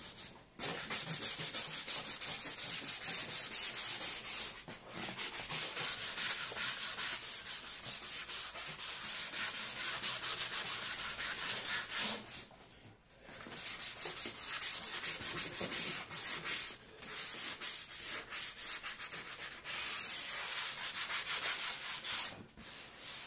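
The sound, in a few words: sanding car leather seat after filler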